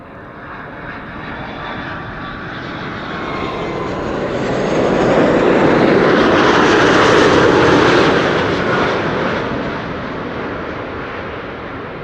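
Large airliner landing, a loud broadband jet roar swelling to a peak midway and then easing off as it passes, steady and close with no speech.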